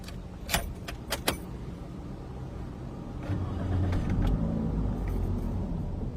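A car's engine starts up and settles into a steady low idle rumble, preceded by a few sharp clicks and jangles, heard close inside the vehicle.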